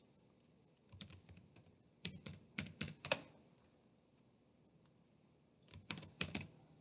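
Answer choices for a Google Forms survey typed on a computer keyboard: soft, close key clicks in three short bursts, quiet gaps in between, no talking.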